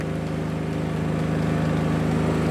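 A portable electric generator driving an 8x8 amplifier set runs steadily at close range, its engine holding a constant hum with a low harmonic drone and no talk over it.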